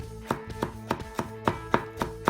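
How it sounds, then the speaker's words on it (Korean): A knife finely julienning green onion on a cutting board for oyakodon, a series of about eight evenly spaced, crisp close chops in a steady rhythm, with no talking. "대파는 좀 가늘게 채 썰어 줄게요"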